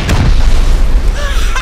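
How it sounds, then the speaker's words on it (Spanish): A loud, close explosion boom in the video game Rust, a short burst that rumbles and fades over under two seconds. "Se viene la explosión."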